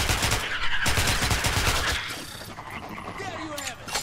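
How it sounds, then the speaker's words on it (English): Rapid bursts of automatic gunfire from the video game Metro Last Light, loud and dense for the first two seconds, then fading to lighter sporadic shots. "Now I'm shooting it."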